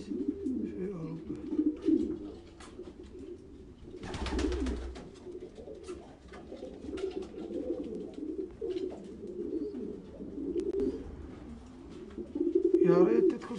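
Racing pigeons in a loft cooing continuously, low rolling coos layered from several birds, with a brief rustle of wings or movement in the middle and a louder burst near the end.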